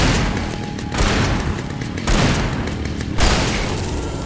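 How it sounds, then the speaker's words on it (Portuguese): Shotgun blasts in the Alan Wake Remastered video game, four heavy booming shots spaced about a second apart, each a loud burst decaying into a rumbling tail. "4 tiros de 12"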